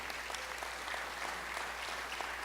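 A church congregation claps for the Lord in a steady, dense wash of applause, no voices rising above it.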